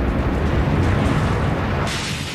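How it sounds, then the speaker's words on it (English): A bomb explosion at a US embassy rumbles as a dense, loud, sustained roar that fills the whole stretch without pause and shifts slightly in texture toward the end. "The force of the explosion shatters all the windows within a 3-block radius."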